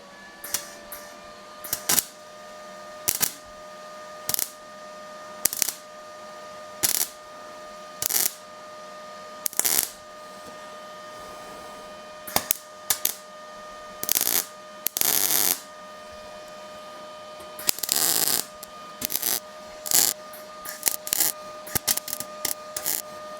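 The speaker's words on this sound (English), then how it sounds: "When I say short circuit, I mean you're gonna hear it snap back a lot." Short-circuit MIG welding on a 1937 Zephyr body panel gives repeated sharp snapping bursts in irregular clusters over a steady whine, with some quiet gaps between bursts and no speech.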